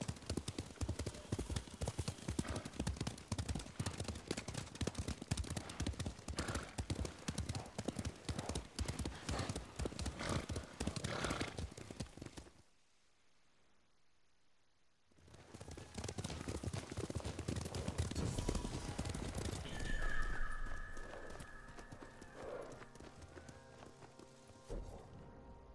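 Horse hooves galloping in Ghost of Tsushima, with a fast, steady clip-clop rhythm for about twelve seconds, a short near-silent gap, then riding resuming under rustling and mixed game sounds.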